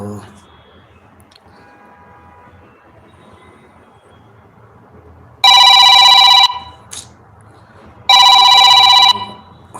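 A phone rings with an incoming call during a first-time live stream, two loud electronic ring bursts sounding close by over quiet background murmur.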